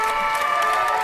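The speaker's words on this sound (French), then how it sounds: "ils sont en train de s'applaudir les uns les autres" Police officers and medical staff applaud one another at a public gathering, a dense, steady wash of many hands clapping with a faint crowd murmur, no pauses across the short stretch.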